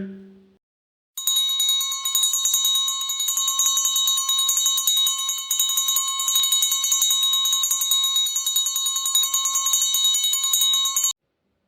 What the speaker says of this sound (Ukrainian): Дзвоник продзвенів.